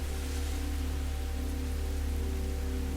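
Steady rain falls in a continuous wash, close and even throughout, with a low rumbling undertone and no voices.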